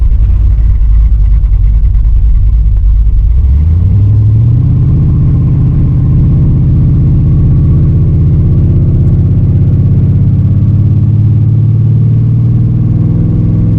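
A Buick Skylark with a 455 engine and a new torque converter rumbles loudly up close, its low revs dropping and settling into a steady, deep idle.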